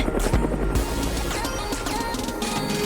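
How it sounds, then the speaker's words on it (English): A helicopter's steady rotor throb and engine whine, fairly loud and close, with a few brief clunks early on. "Whoa! It's a helicopter!"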